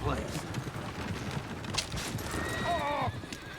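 Horses in Red Dead Redemption 2 whinny shrilly and clatter their hooves near a coach, with a sharp neigh rising late amid scuffling, rapid hoofbeats and overlapping voices.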